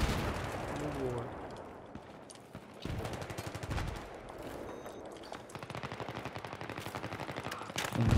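Rapid bursts of automatic weapon fire and booming blasts in the military shooter Battlefield 3 rattle on continuously over a dense, noisy battle backdrop, with a voice speaking faintly underneath.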